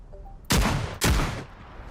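Two loud, close gunshots in a video game, about half a second apart, each a sharp crack with a short booming tail, with no talk over them.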